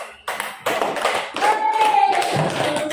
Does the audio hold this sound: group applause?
yes